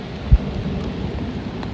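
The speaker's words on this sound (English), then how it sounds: "Right now it is currently raining," Steady rain falling beside a creek during a thunderstorm, a continuous low wash of drops with one brief thump early on, heard outdoors at close range.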